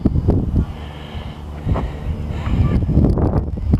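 Wind buffets a HobbyZone Sport Cub S RC plane in flight, gusty rumbling microphone noise rising and falling, with faint snorting bursts and a brief whine from the small motor.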